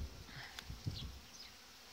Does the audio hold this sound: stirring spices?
no